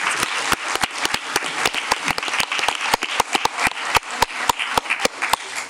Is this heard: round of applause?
yes